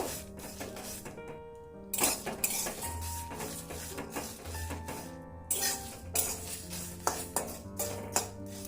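Black cumin and spices dry roasting in a kadai over low heat, heard as intermittent metallic scraping and clinks of a spoon against the pan, close and fairly quiet.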